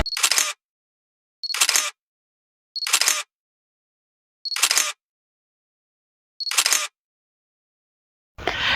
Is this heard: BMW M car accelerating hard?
no